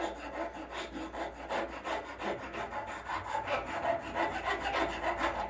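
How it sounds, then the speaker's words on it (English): A rasp files a Purple Heartwood knife handle on a forged seax, steady back-and-forth rasping strokes in a regular rhythm, close and clear with no talking. "Once I hit it with a rasp, I'm going to hit it with a finer file, and then I'll hit it with sandpaper."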